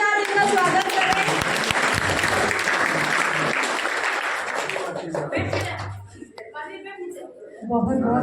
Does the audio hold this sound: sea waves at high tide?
no